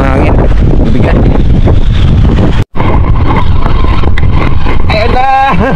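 Strong wind buffets a fishing boat on an inland sea, roaring loud and constant across the microphone with a brief dropout midway, and voices speak over it.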